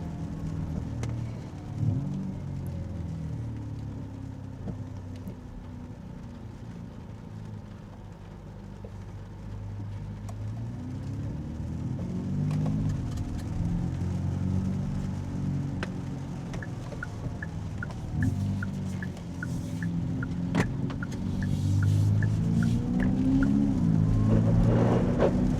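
A 2025 Kia EV6 GT electric car driving, with a steady low road and tyre rumble and faint motor whine that swell gradually over the drive, heard from inside the cabin.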